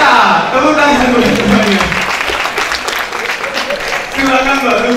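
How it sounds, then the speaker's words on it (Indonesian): Audience applause at an academic event honouring Mohtar Mas'oed, with loud clapping over a voice talking and calling out across much of the clip. "Tepuk tangan dulu."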